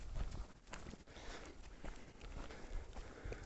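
Horse hooves clip-clop along a forest path near Drzonkowo, a soft irregular patter of steps at moderate distance, with faint birdsong and outdoor ambience around them.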